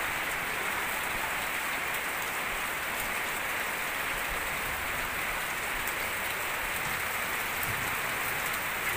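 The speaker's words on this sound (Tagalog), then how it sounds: "Lakas ng ulan." A steady downpour of heavy rain beside a river in a flooding area hisses continuously, drumming evenly on surfaces with no voices or breaks.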